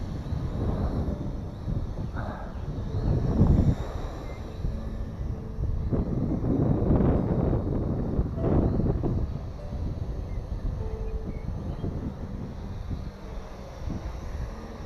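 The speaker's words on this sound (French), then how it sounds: "y a énormément de vent" Steady, heavy wind rushing across the microphone during a WLtoys Q333A RC drone test flight, with low rumbling gusts that swell and buffet throughout.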